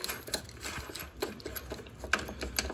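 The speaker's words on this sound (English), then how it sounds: "take our E30 Torx bit here, remove these four bolts up on top" Ratcheting a Torx bit to remove the top bumper bolts on a BMW E92 M3, quick irregular clicks and metallic ticks, close but fairly quiet.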